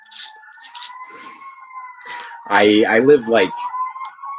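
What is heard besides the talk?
emergency vehicle sirens in the distance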